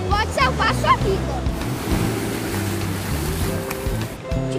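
Surf rolling onto Barra da Tijuca beach, a continuous wash of waves with wind buffeting, heard under steady background music and a voice speaking throughout.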